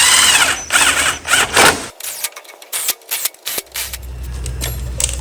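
Ratchet wrench snugging down the cylinder head bolts on a 19.5 hp Briggs and Stratton engine during head gasket repair, a series of short close metallic clicking strokes in uneven bursts.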